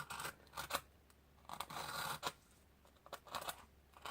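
A blade cuts and scrapes through Styrofoam carved into worn wooden floorboards, giving repeated rough rasping strokes with short pauses, close-up and soft, with no voices.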